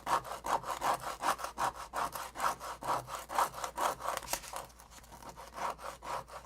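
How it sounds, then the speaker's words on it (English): High grit sandpaper rubbing back and forth on a walnut dowel to wear it to a point, a steady close rasping rhythm of quick even strokes, quiet and without talking. "we're just going to take a high grit sandpaper and just wear that down to a point"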